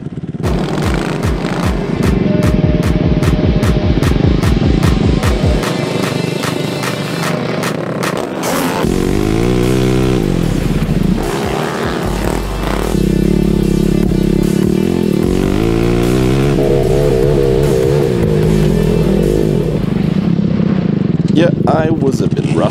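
A loud, rough small racing lawn mower tractor engine revs and drones continuously up close, pitch rising and falling as it races, with a sharp rhythmic putter at the start.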